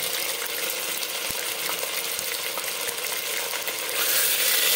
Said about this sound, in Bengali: তেহেরির ক্ষেত্রে তেলের মধ্যে মাংসটাকে ভেজে নিতে হবে।